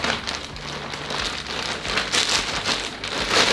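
Heavy rain pours down steadily during a rainy storm week, a dense continuous hiss of drops drumming on a surface with no voices.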